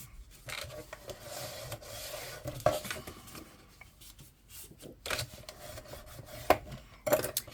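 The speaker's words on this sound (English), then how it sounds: "then you can fold and burnish all of your score lines of your pocket." A paper pocket's score lines are folded and burnished on a craft table, a series of soft, dry rubbing and scraping strokes with occasional light taps, quiet and close.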